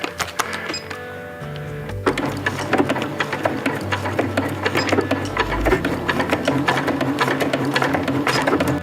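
A sewing machine with a zipper foot stitches a Dyneema stuff sack, a steady, rapid mechanical whir that speeds up after a short start and runs continuously up close.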